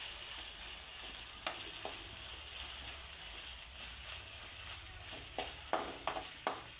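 Onions fry quietly in a pan for egg rice, making a soft, continuous low sizzle with a few faint scrapes of stirring near the end.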